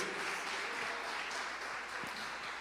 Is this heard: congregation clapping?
yes